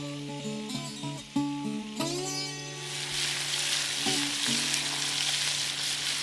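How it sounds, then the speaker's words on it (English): Pike fillets fry in a pan for a lakeside shore lunch, a steady broad sizzle building and holding beneath sustained musical tones, with no talking. "we got to frying up some pike fillets"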